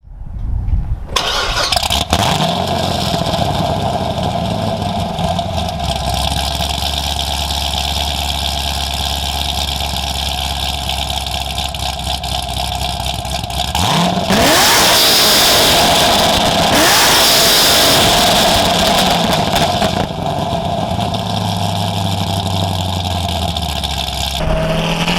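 A modified 2009 Corvette Z06, about 700 horsepower with an MSD Atomic Air Force intake, 102mm throttle body and BTR Stage 2 cam, cranks and fires, then settles into a loud, lumpy idle with a couple of sharp revs partway through.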